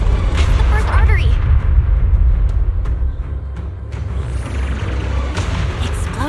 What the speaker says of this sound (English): Explosions are becoming more frequent.